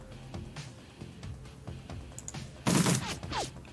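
Pistol gunfire in the video game Shadowrun Returns, a couple of loud sharp shots bursting out late over quiet background clicks, with a ringing tail after.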